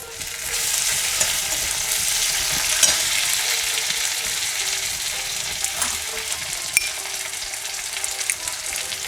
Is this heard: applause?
no